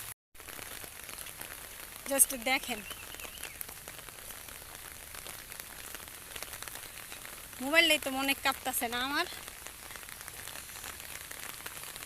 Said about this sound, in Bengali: আবহাওয়াটা দেখবেন অনেক সুন্দর, ঝিরি ঝিরি বৃষ্টি